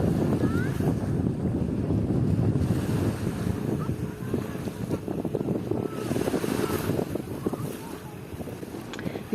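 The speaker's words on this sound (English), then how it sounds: "I really like this beach" Waves rolling onto a sunny Dubai beach in extreme heat: steady surf wash under strong wind buffeting the microphone, a continuous close rush with swells rising and falling, some faint background voices.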